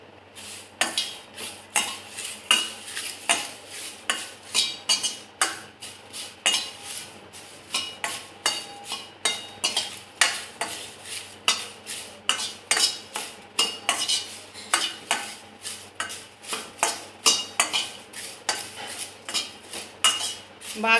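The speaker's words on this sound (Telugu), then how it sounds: "బ్లాక్ కలర్ వచ్చే వరకు అలా వెల్లుల్లిపై పొట్టుని వేపుకుంటూ ఉండాలి." Garlic peels dry-roasting in a pan are stirred steadily, giving a rhythmic series of close, sharp scrapes and clinks of utensil on metal, with no talk.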